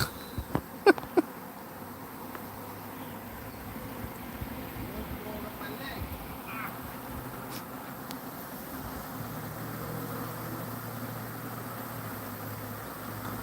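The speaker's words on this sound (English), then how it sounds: "I'd say this is about 3 pounds of bees." Roughly three pounds of swarming honey bees hum in a soft, continuous drone, faint and steady, with a few sharp knocks early on and brief murmurs of voices in the background.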